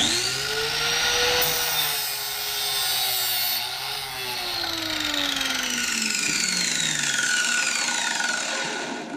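A power tool whines with a gliding, shifting pitch as it cuts through the shaft of a vintage Jack Nicklaus Muirfield putter, loud and close, then fades out at the end.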